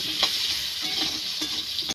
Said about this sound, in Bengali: আলু খুব সুন্দর করে ভাজা হয়ে গিয়েছে